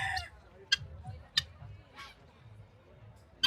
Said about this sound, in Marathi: पुढचं गिनी फाऊल आहे, चिनी कोंबडी म्हणतात याला.